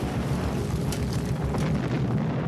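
A comet impact explosion that unleashes thermal radiation across a city, rendered as a dense, sustained low rumbling blast with a roaring, turbulent texture that stays loud for the whole short stretch.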